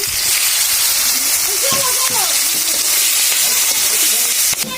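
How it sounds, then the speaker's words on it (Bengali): Green chillies are added to fish already frying in hot oil in a wok, producing a loud steady hissing sizzle heard up close while a voice speaks over it. "দিয়ে দিচ্ছি এখন কাঁচা লঙ্কা।"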